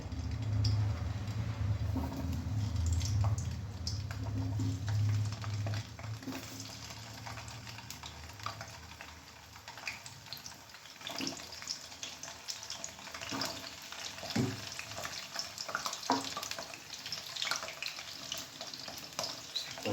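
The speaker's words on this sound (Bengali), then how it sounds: "তেলটা গরম হয়ে গেছে, এবার আমি এই আলুগুলো একটু ভেজে নেব" Potatoes fry in hot mustard oil with a continuous low sizzle, louder at first and then settling into a quieter bubbling hiss with occasional clinks of stirring.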